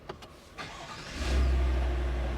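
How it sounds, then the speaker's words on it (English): A 2022 Chevrolet Suburban SUV engine cranks and catches after a couple of soft clicks, then settles into a loud, steady low idle rumble, heard up close with no talking. "Let's go ahead and turn on the car for the sake of the video."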